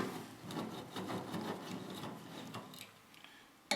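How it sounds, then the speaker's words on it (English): Screws come out of the dash of a John Deere 630 tractor with a continuous close scraping and rubbing of a screwdriver turning, fairly quiet and steady, with no talking. "We're gonna take all these screws out."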